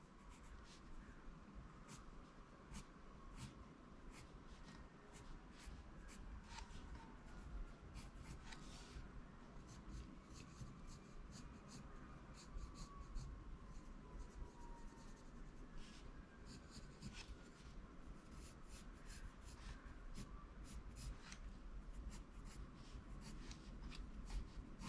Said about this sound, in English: This is a 2B barrel pencil.